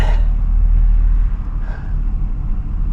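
A loud, steady low rumble from an LS V8-swapped Mazda RX-8 engine held at high revs during a burnout attempt, continuous throughout with a slight dip midway and no talk.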